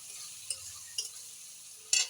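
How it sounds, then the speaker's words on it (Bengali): Spices being stir-fried in a pan with a steady soft frying hiss, broken by a few sharp scraping clinks of a utensil against the pan. "এই যে এখন মশলা কষাচ্ছি। এই দেখো মশলা এই যে কষাচ্ছি।"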